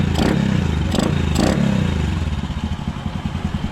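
A repaired motorcycle engine with a fixed, quiet muffler runs loudly up close, with a few sharp revs early on before settling into a steady, rapid idle chug.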